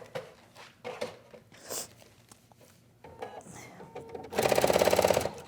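A sewing machine doing free-motion thread painting runs in one loud, fast, steady burst near the end, after quieter handling noises and soft movement at the start.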